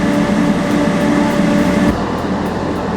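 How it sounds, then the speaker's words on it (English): A steady, loud rumble of a long Indian Pacific train rolling past nearby at Cook, Australia, with a constant mechanical hum and a slight shift in tone near the end. "This is a long train."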